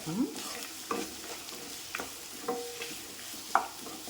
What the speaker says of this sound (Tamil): கொஞ்சம் உப்பு போட்டு வதக்குறேன், சீக்கிரமாக வதங்குறதுக்காக.